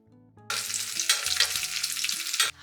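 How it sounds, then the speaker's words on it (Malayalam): Cashews and raisins hit hot ghee and burst into a loud, steady sizzle that runs for about two seconds before stopping abruptly, with a faint low hum beneath and no talking. "ഇനി നമുക്ക് അണ്ടിപ്പരിപ്പും മുന്തിരിയും വറുത്തിടണം. അപ്പോൾ നെയ്യ് ചൂടാക്കി വറുത്തിടാം."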